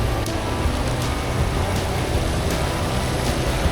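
Heavy rain pours in a constant loud roar and patter, with faint traffic rumbling underneath and no talking.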